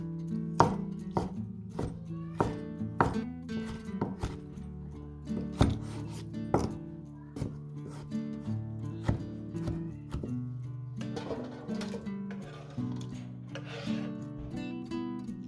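Tomatoes being cut into small pieces with a knife on a board, giving steady rhythmic chopping knocks that come close and clear, some quicker and some spaced, continuing without pause and with no talk.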